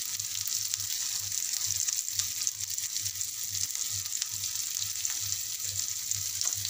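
Roasted, peeled eggplant sizzles in oil with turmeric, red chili powder, coriander powder and salt, a steady close frying hiss with regular scraping stir strokes and no speech.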